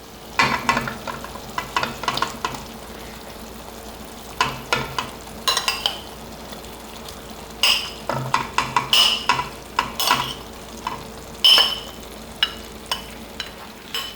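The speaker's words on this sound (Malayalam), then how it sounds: "ഇനി നമുക്കിതിൽ വറുത്ത് വെച്ചിരിക്കുന്ന പ്രോൺസ് ചേർത്ത് കൊടുക്കാം" A prawn masala, with fried prawns just added to oily semi-gravy masala, sizzles quietly in a pan, broken by repeated bursts of stirring and scraping with a spoon at irregular intervals throughout.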